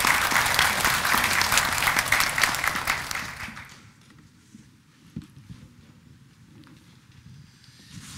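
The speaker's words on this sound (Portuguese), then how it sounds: "Vamos acolher a palavra com uma salva de palmas." A church congregation at Mass claps after the Gospel reading, a dense, loud burst of applause that fades away after a few seconds into quiet room tone.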